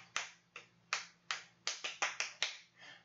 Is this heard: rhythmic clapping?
yes